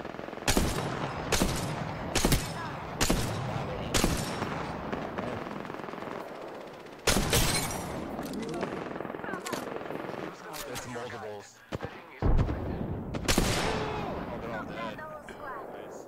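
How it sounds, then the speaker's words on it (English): Repeated bursts of automatic gunfire in PUBG on PS4 as players shoot up a hill, loud rapid volleys at intervals with a few single shots, with players' voices talking over the action. "They were shooting at someone up the hill though."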